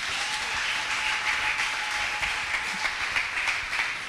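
A church congregation applauding together, a dense, steady wash of many hands clapping that holds at an even level throughout, with a faint tone running underneath.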